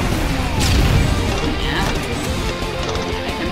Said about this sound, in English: you don't win with explosions